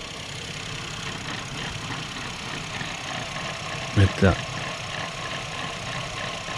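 A Renault Espace with a one-litre engine idles with a steady, slightly rough mechanical chatter. Someone speaks a short word over it, and two brief louder thumps interrupt it near the end.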